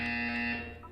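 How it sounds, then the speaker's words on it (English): A short electronic buzzer from the video game Portal 2 sounds loud and steady, then fades as it ends, with no voices over it. "When you hear the buzzer, look down at the floor."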